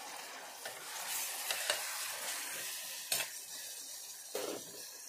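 Deseeded tomatoes cook for pav bhaji with a soft, steady sizzle while a spoon stirs and knocks against the pan in a few scattered scrapes, heard up close and fairly quiet with no talking.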